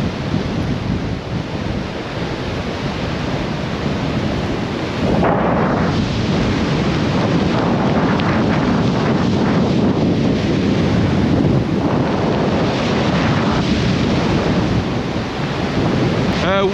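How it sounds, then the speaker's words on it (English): Roaring hurricane-force wind from a Lake Erie storm buffets the microphone continuously, gusting around 100 km/h, a loud, dense rumble with surging gusts and no letup for the whole stretch. "Hurricane force winds now just battering Crystal Beach right now."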